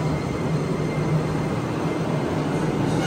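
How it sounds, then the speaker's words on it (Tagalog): Train pulling in at the Fukuoka Airport subway station in Japan, a steady loud rumble of the cars with a low hum filling the platform and no talking over it. "Ayan na yung tren."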